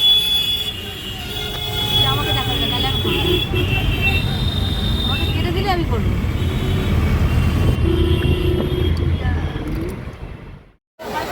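A train bound for Howrah rumbles along from inside a carriage, a loud steady roar of wheels and car noise with occasional metallic squeals, people talking throughout, before a sudden drop near the end.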